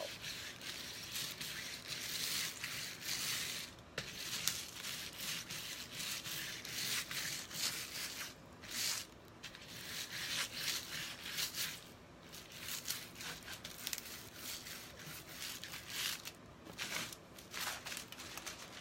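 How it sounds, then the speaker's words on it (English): Almond-colored foil is scrubbed onto a surface by hand, a continuous rough rubbing and scratching texture with brief pauses, close and fairly loud, no voices. "now I'm scrubbing the almond on, and it will pick up in the places that didn't release the other foil"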